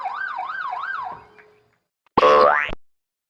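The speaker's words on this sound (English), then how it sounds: "This is a police car, a patrol vehicle that helps enforce the law and protect public security and order." A police patrol car siren wails in a rapid rising and falling pattern for about a second, fades out, then after a short silence a loud, rising whoop-like burst blares briefly and cuts off.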